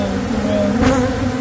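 A dense, steady buzz of many bees in a maggot-infested hive fills the air close up, droning continuously with a brief louder swell.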